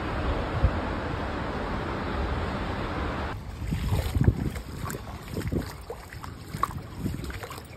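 Floodwater in a Dubai street, heard as a steady rushing wash of water with wind buffeting the microphone, then sloshing and splashing as something moves through it.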